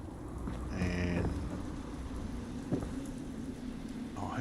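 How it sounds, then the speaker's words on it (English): Game rain from Fallout 4 patters steadily as a soft, low wash, with a brief louder rattling burst early on and a few faint scattered clicks, quiet and with no talking. "It's raining right now, so it's a little hard to determine."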